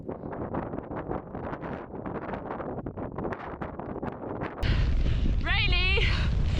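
Strong wind buffets a microphone while cycling in rainy weather, a dense roaring rush that grows louder and heavier partway through, with a voice speaking briefly beneath the gusts.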